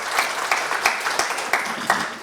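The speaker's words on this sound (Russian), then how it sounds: "Аплодисменты Федору." An audience applauds a speaker named Fyodor after his talk on flexible management: a steady patter of moderate clapping with a few louder individual claps standing out, no voices over it.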